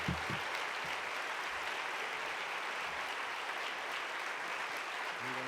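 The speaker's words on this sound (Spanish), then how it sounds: "Bienvenida Irene, con un sonoro, merecido y sentido aplauso" Audience at a club event in Mallorca applauds to welcome a guest, a continuous, fairly quiet wash of many hands clapping with faint voices beneath.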